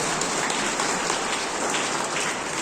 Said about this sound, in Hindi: उनके लिए भी ताली बज जाए।